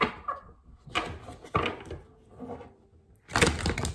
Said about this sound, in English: And then one more shuffle.